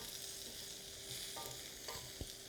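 Meat being turned in a hot pan, a faint steady sizzle with a few light scrapes and taps of a utensil, no talk.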